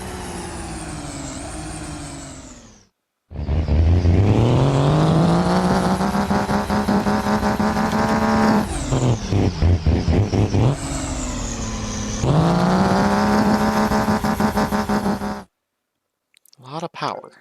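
A fully upgraded truck in BeamNG roars loudly as it accelerates hard, the engine note climbing through several gear changes with brief dips between, and a voice talking over parts of it.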